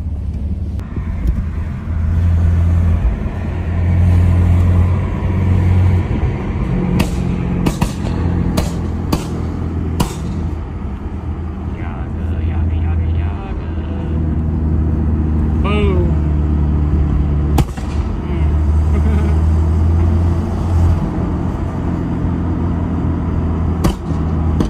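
A BMW F80 car drives along a road in traffic, its steady low engine and road rumble continuous throughout, with a few brief sharp knocks and a faint chirp partway through; a voice talks over it.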